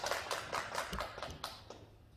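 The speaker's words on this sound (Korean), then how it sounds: "박수로 환영해주세요" Light applause at an indoor human-rights conference welcoming a presenter, a small audience clapping in distinct, fairly quiet bursts that fade out toward the end.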